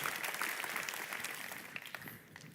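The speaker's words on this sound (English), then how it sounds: "If everybody could please join me in giving him a round of applause." Audience applause at a Xiaomi 13T series launch event, a dense steady wash of many hands clapping that carries on throughout and eases slightly toward the end.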